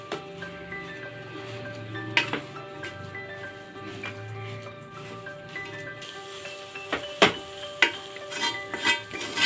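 Small spinach (siru keerai) being stirred into masala and salt in a cooking pan for a spinach gravy, with soft scraping and light metal clinks, then several sharper knocks of the spoon against the pan near the end.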